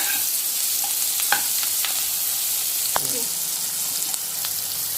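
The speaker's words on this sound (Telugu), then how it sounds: "పచ్చిశనగపప్పు, ఉద్దిపప్పు, పచ్చిశనగపప్పు కొంచెంసేపు అట్లా వేయించుకుంటాము" Chana dal and urad dal frying in oil for upma, a close, continuous sizzle with scattered sharp pops and ticks from stirring, no talking.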